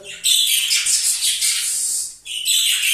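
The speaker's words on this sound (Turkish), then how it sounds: "Kuşlar böyle artık 10 dakika susunca illa bağıracağız diyorlar." A flock of male budgerigars in breeding cages chatters and screeches in loud, continuous bursts close by, busy and high-pitched, with a brief pause before calling again.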